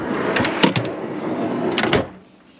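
A single MSA drawer in the rear of a 200 Series Landcruiser touring build slides along its runners, giving a few quick rattling clunks, then a second burst of sliding clatter before settling, close and alone.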